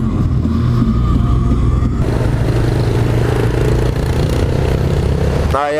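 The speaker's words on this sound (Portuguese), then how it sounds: "Já coloquei ela no modo esporte ali pra gente poder ver esse motor crescendo." A Honda CB 1000 R motorcycle ridden in sport mode, its engine loud and close with a steady droning roar, then climbing sharply in pitch as it revs at the very end.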